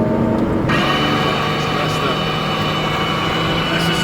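Hydraulic suspension lowering pump whirring inside an Enzo Ferrari on the move, a steady mechanical hum that switches on early and runs continuously beneath the engine and road noise, with a faint voice over it.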